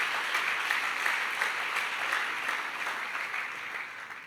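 A church congregation claps in praise, a steady dense wash of applause from many hands filling the room throughout, fairly loud and even, with no talk over it.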